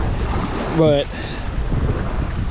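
Strong wind over open water near a boat roars and buffets the microphone in a loud continuous rush, and a voice briefly speaks over it.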